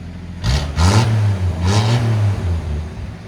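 A 1952 International L-100 with a 220 inline six and a glass pack exhaust revs close up, giving three throaty, rumbling bursts that rise and fall before settling back toward a low idle.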